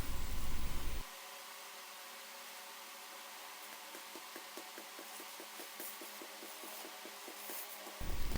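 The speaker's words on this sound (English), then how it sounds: "sweeping back and forth until all the spaces seemed full" A broom works masonry sand into the gaps between newly laid patio pavers, making faint rhythmic scratchy strokes back and forth that stand out briefly against a quiet background.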